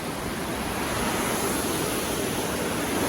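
A waterfall at San Diego Zoo Safari Park pours in a steady, dense hiss and roar, continuous and fairly loud from start to finish, with no voices.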